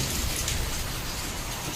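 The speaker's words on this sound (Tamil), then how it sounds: "இங்கே செம்ம மழை, காலையிலேருந்தே செம்ம மழை." Heavy rain pouring steadily on a rainy day in Pondicherry, a dense, even hiss of broadband noise throughout, close and fairly loud with no voices.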